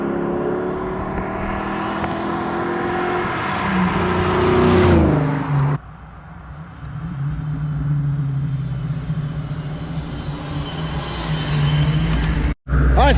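A car roars past on snowy ground in a fast flyby, engine loud and rising as it nears, peaking close by, then fading away, with a brief cut near the end.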